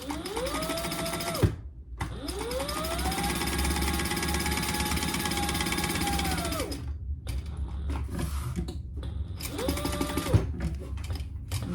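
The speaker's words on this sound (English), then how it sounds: "It's not hard to sew on." A sewing machine stitching a boxy crossbody bag runs in long whirring bursts, close and steady, with a rising and falling motor pitch, separated by short pauses and a few clicks as the fabric is adjusted.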